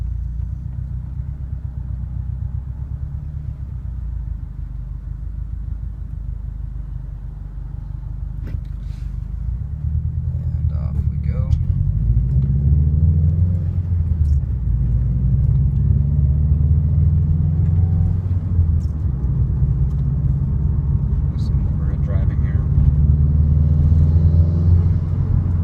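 A 2013 Subaru WRX cruising along a flat neighborhood road, a steady low engine and road rumble heard from inside the cabin that swells a little as the car picks up speed, with no talking.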